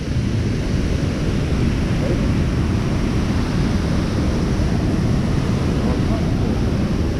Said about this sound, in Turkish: asıl şelale bu burası.